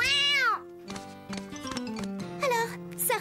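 A cartoon cat meows loudly several times, with drawn-out, wavering calls at the start and again near the end, separated by a short spoken line.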